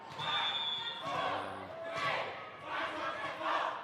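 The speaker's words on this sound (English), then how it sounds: "The crowd in sync with Emilia's bounce of the ball." A women's volleyball final between Mozambique and South Africa at the Region 5 Youth Games, with a ball bounced before a serve while the crowd chants loudly in rhythm, rising and falling in several waves.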